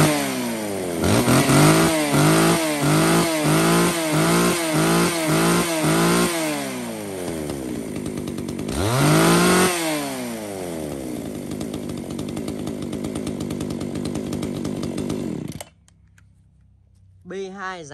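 A used G310 chainsaw is started for a test run, giving a series of sharp revving bursts before settling into a loud, sustained snarl that cuts off abruptly near the end.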